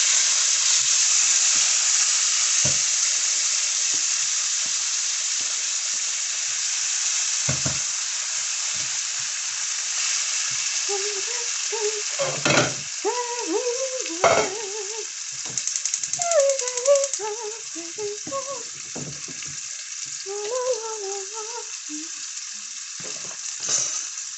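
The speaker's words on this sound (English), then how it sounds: "we are going to toss them in so that they cook" Tomatoes for pasta sizzling and frying steadily in a hot pan, a continuous loud hiss with occasional clicks and sputtering pops, and no one talking.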